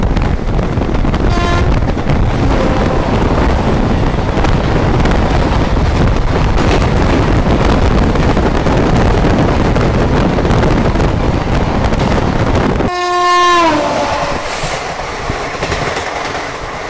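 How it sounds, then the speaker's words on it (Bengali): Vivek Superfast Express train 22504 rushes past on the line beside the Purnia–Siliguri road, a loud continuous roar and rattle of wagons with a brief horn toot early on and a longer, stronger horn blast near the end as it passes. "চলে আসছে ট্রেন নাম্বার 22504 বিবেক সুপারফাস্ট এক্সপ্রেস।"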